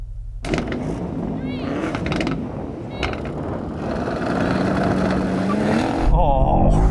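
A BMW M8 Gran Coupe, Audi RS6, AMG E63 S and Porsche Panamera launch together off the line in a drag race, a loud rising roar of engines and tyres that builds and holds, with a voice talking over it.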